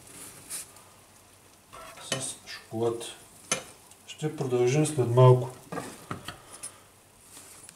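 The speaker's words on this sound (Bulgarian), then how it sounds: "Докато се пържат поничките" Doughnuts frying in hot oil in a home kitchen, a soft sizzle with stirring and utensil clinks, heard under steady speech that runs throughout.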